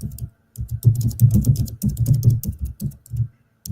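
Fingers type on a computer keyboard in quick, close bursts of clicks with short pauses between runs, no talking.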